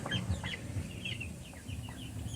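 Chickens on a farm cluck and chirp in short, scattered bursts over a low, steady background rumble, fairly close and continuous throughout.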